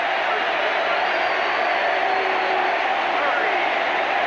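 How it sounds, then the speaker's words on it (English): A baseball stadium crowd, Brewers at Orioles, roars in a steady, loud, continuous wall of cheering that does not let up, with a commentator's voice faintly underneath. "as this crowd goes crazy"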